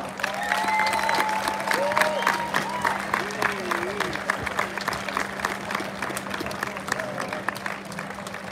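Crowd at a fighting-sport event in Hämeenlinna claps and cheers loudly, with a steady hum underneath and scattered shouts and whistles rising over the applause, which gradually thins.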